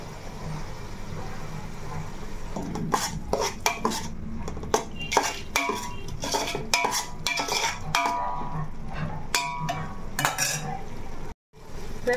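Onion paste cooks in a pan while a spoon or spatula scrapes and clatters against the metal in busy, irregular strokes, with a soft sizzle beneath, and tomato paste is added. The sounds are close and fairly loud, with no speech.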